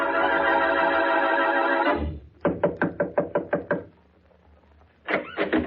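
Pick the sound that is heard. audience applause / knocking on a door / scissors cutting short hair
knocking on a door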